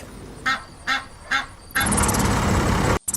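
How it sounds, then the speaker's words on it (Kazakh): A domestic goose honking three times in an evenly spaced series, close and clear, followed by a burst of louder broadband noise, with no talking. "қаз."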